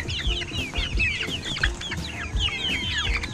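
Chickens cluck steadily and densely in a close flock, with overlapping short calls and a rooster-like tone, alone with no talk over them.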